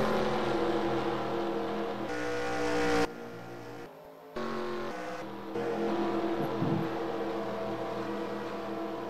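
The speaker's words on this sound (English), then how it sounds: "to try to catch up to the small little pack of cars ahead of them" Race cars in an eNASCAR racing video game roar continuously and loudly, engines droning and shifting pitch as the pack runs together, with no talk over them.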